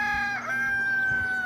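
A rooster crows loudly and close by with a sustained, wavering call, while hens cluck softly underneath on a backyard chicken flock.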